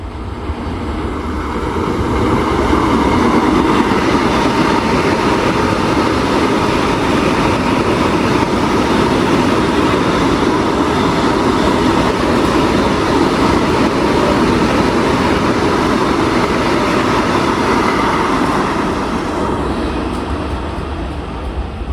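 Mangala Lakshadweep Express running steadily, heard from inside a general class coach as a continuous loud rumble and rush of wheels and wind that swells in and holds for about twenty seconds.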